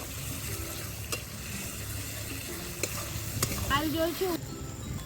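Chopped onion and tomato sizzle steadily in a hot pan for a Bengali fish-bone chochchori, with scraping stirs and a brief sharp squeak from the utensil near the end; no talking.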